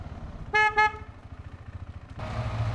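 A car horn sounds at a house gate as two short honks close together, followed by the low rumble of an idling engine.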